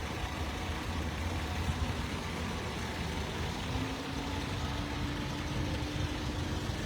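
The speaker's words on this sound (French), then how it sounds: "au loin vous voyez les véhicules à traverser de Paris qu'on va bientôt rejoindre" Vehicles crossing Paris rumble in the distance, a low continuous traffic drone heard from inside a Citroën BX Digit, steady and moderately quiet.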